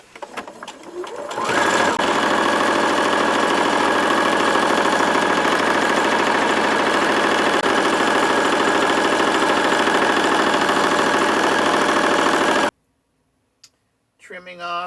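Sewing machine stitching along the folded edge of a lanyard, a loud close continuous whirring run of about eleven seconds that stops abruptly, followed by a couple of faint clicks and handling noises.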